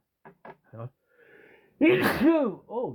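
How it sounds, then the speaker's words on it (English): A few soft breathy sounds lead into a sudden loud sneeze up close, followed by a brief vocal noise. "I was sneezing there."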